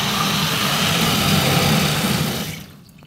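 Water gushing from a tap fed by a twin pipe water pump with automatic pressure control, a strong steady rushing hiss that holds level, then fades away in the last half second.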